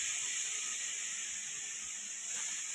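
Garlic sizzling in hot oil as tempering for a spinach chicken dish, a steady close hiss throughout with no talk.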